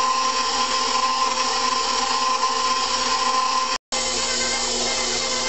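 An electric stand mixer kneads pumpernickel bread dough in a bowl, a steady close whirring motor drone that runs continuously, broken by one brief cutout near the end, with no talking.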